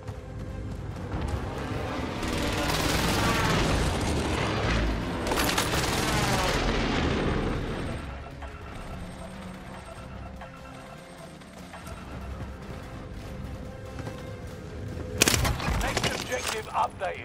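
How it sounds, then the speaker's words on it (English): Airstrike explosions in a video game battle roar as a broad, rumbling barrage of blasts and gunfire for several seconds, then fade to a quieter murmur before one sharp, loud impact near the end. "Allied precision airstrike incoming."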